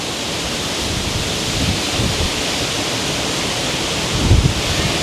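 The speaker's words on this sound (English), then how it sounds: "Wow, it's so windy." Steady, loud wind rumble buffeting the microphone outdoors at a pond park in South River, New Jersey, broadband and constant, with a stronger gust near the end.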